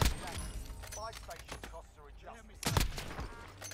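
Quiet bursts of video game gunfire crack out as several sharp shots in quick succession, with voices talking faintly in between.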